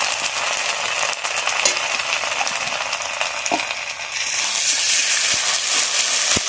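Onion with ginger-garlic paste frying in a pan for a spicy fish kalia, a steady broadband sizzle with occasional scraping taps, growing slightly louder and brighter toward the end.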